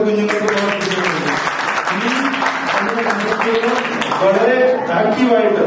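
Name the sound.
audience applauding parents and children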